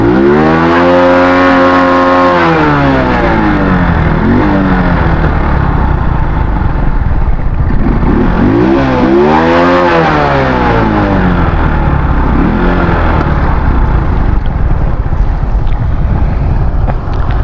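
Motorcycle engine revving on a rural road, a loud, steady drone with two rising and falling pitch sweeps as the throttle opens and eases, close and continuous throughout with heavy wind buffeting.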